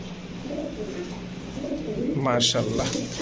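Budapest pigeons coo softly and repeatedly close by. Someone talks over the cooing throughout.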